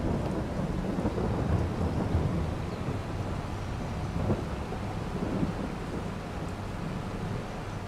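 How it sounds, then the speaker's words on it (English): Steady rain and a thunderstorm in a farming video game, with a broad continuous hiss of downpour and low rumbling thunder rolling underneath throughout, no voices. "I should probably close everything up so the rain doesn't get in."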